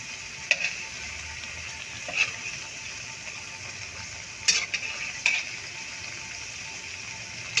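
Aloo palak pakoras being turned over in hot frying oil, a steady low sizzle with a few sharp clinks and scrapes of a utensil against the pan at intervals; no one speaks.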